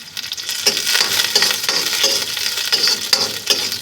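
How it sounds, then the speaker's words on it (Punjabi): Unpeeled garlic cloves roast in oil in a kadai over a medium flame, giving a steady close sizzle and crackle with brief scraping stir strokes every half second or so, and no talking. "ਕੜਾਈ ਵਿੱਚ ਆਪਾਂ ਥੋੜਾ ਜਿਹਾ ਤੇਲ ਰੱਖਿਆ ਇਹਦੇ ਵਿੱਚ ਇਹ ਲਸਣ ਇਹਨੂੰ ਥੋੜਾ ਆਪਾਂ ਭੁੰਨ ਲਵਾਂਗੇ"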